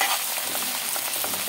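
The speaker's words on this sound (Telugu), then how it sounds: "ఇలా కొంచెంగా వేసుకొని మనం చక్కగా ఫ్రై చేసేసుకుందాము" Coriander leaves frying in hot oil for a pickle, a dense close crackling sizzle with light stirring, loud and continuous over a brief stretch with no voices.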